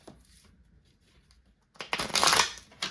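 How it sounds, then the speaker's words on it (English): Tarot cards riffled during a reading, with a quiet, near-silent pause followed by a loud, close burst of crisp shuffling lasting about a second. "I'm being called to do a few more shuffles for you."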